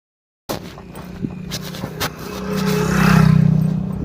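A motorbike on a village road approaches with an engine hum that swells to a peak near the end, while faint thumps and scuffs sound close by.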